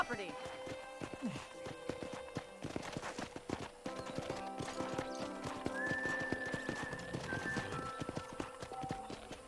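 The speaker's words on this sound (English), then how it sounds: "I picked out a fine horse for you." A horse in Red Dead Redemption, with steady clip-clop hoofbeats and a whinny, close by under ongoing game music and speech.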